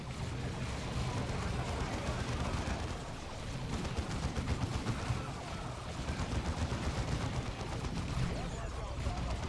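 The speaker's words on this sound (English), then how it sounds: "Are those Eldar guns like plasma or something like that?" Eldar guns blaze in the Dawn of War 2 real-time strategy game, a dense, continuous roar of overlapping gunfire and impacts lasting throughout under a thick battle din.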